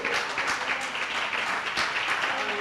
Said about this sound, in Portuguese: Você quer aplaudir, aplauda o Senhor.